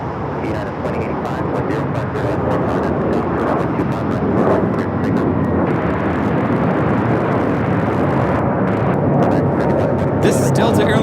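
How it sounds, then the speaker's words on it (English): A Delta Airlines A321neo takes off at Los Angeles International Airport, a loud steady jet engine roar that holds throughout without easing. "This is Delta Airlines 811 taking off to Miami, Florida on the A321neo."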